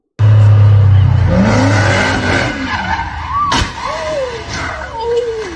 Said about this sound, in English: Sound of the engines.